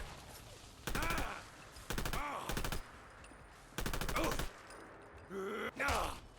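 Gunfire in the video game Fallout 4: London, with four loud bursts of rapid automatic fire separated by short pauses and a couple of shorter bangs near the end. Quiet background noise fills the gaps.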